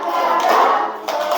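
A group of children in a classroom claps hands together on a spoken count, a short burst of mixed clapping and tapping that swells and then briefly drops before resuming.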